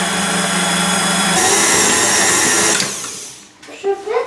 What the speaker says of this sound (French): Et maintenant il faut pétrir la pâte jusqu'à l'obtention d'une pâte homogène.